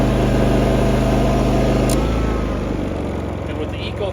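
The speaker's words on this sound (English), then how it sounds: "if I turn this on, you can hear that it kicks up a little bit and it kicks back down" Predator 5000 portable generator engine running loud and close with eco throttle on, droning steadily then dropping to a lower, settled idle partway through as its pitch and rumble ease.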